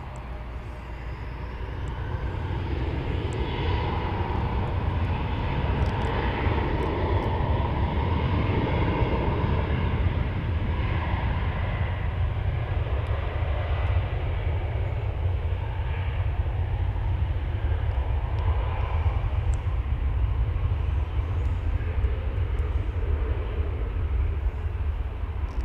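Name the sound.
American Airlines Airbus A319 airplane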